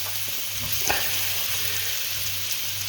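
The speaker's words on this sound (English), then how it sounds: "drop the mushrooms in there, and it should sizzle. Okay, there it is sizzling." Mushrooms sizzle and crackle steadily in a hot pan, a continuous frying hiss with a brief stir near the start.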